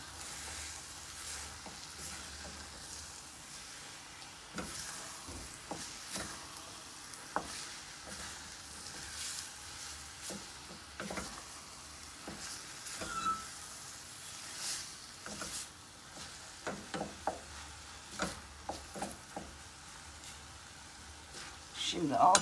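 Softened onions with red pepper flakes frying in a pan for a minced-meat börek filling, a soft continuous sizzle with occasional stirring scrapes and clinks, under intermittent talk from the cook.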